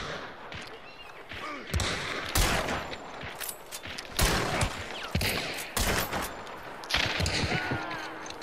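Gunfire in the first-person shooter Hunt Showdown: several sharp shots and short bursts crack at irregular intervals, some loud and near, others more distant, over a noisy in-game background with occasional thuds.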